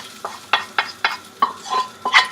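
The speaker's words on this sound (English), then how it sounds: "now I'm going to just take that and just dump that in the pan" Shrimp for fried rice tipped into a hot pan, a series of sharp sizzling bursts and scraping stirs at a fairly regular pace, close and moderately loud.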